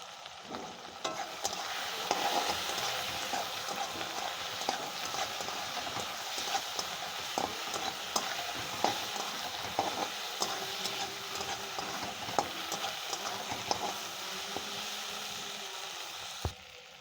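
Food being stirred and sautéed in a pan, a steady sizzle and frying hiss with continual scraping and clattering of the spoon against the pan throughout.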